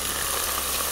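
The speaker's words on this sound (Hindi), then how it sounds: "अब इसको हम अच्छी तरह से फ्राई कर लेते हैं।" Red chili, turmeric and salt frying in oil in a pan, giving a steady, dense sizzle that holds evenly throughout with no pauses.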